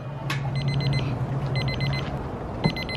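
A meat thermometer probe alarm beeps rapidly in repeated short bursts, three clusters with pauses between, over a low background hum and a sharp knock near the end, during cooking on a Weber kettle grill.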